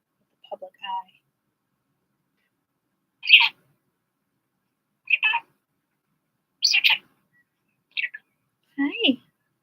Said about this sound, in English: My pretty bird?